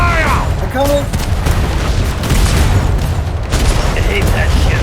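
Ship cannons fire a broadside in a pirate roleplay video game, a dense, continuous roar of deep booms rolling together over several seconds, with voices and some tonal game sounds mixed in.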